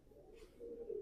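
Lahori pigeons coo softly in a short, faint, low murmur with no one speaking over it.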